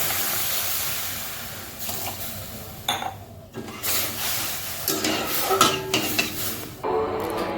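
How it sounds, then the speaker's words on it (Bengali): Water poured into a pan of fried mung dal bursts into bubbling and hissing over a low ongoing fry, with clattering pan sounds. "এবার আমি এর ভিতরে জল দিয়ে দিচ্ছি সিদ্ধ"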